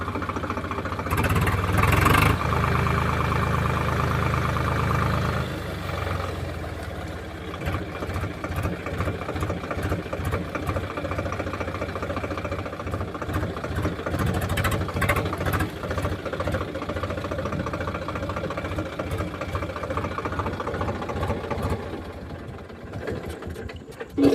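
A tractor stands in deep water with its engine running, a loud steady chugging rumble with a burst of heavier revving at the start and a pulsing idle afterward, cutting off abruptly at the very end.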